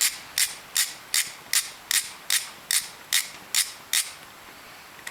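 Ratcheting clicks while the carburetor cap is removed on a Yamaha Vino scooter, ten evenly spaced sharp mechanical clicks in a steady rhythm, close and alone with no talk.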